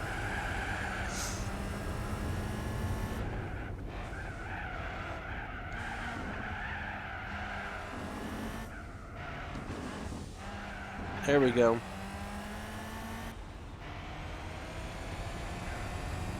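Twin turbo V12 race car in Gran Turismo 4 revving and shifting through a race, with engine drone, brief tyre skid near the middle, and someone talking over it.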